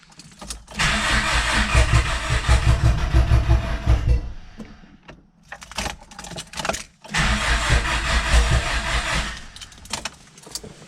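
A 1980s sports car, unstarted for two years, cranks repeatedly with loud churning starter bursts, stumbles and sputters between attempts, then cranks again, with keys jangling near the ignition.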